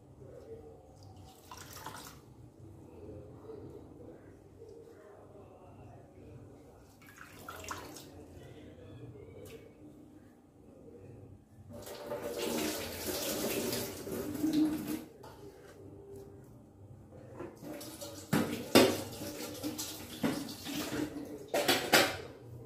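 Banana flower is washed and squeezed by hand in water while cooking sundal: intermittent splashing, dripping and trickling with quiet pauses, growing into louder bursts of sloshing and wringing toward the end, close to the microphone.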